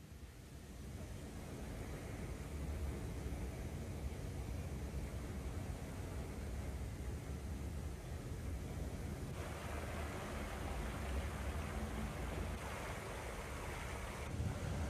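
Water fountains splash in a steady, unbroken rush of broadband hiss that stays at an even level for the whole stretch, with no voices.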